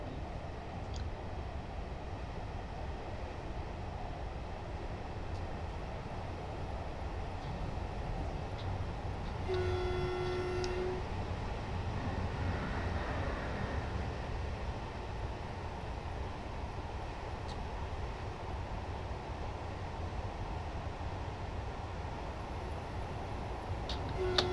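An ICE train in Train Simulator 2022 on a Berlin route gives a steady, subdued rolling rumble that holds throughout, with a brief tonal horn-like sound near the middle.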